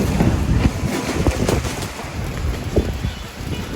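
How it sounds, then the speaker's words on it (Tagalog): Strong wind roars and buffets the microphone steadily throughout, a loud, gusty rush with no voices. "Sobrang lakas ng hangin."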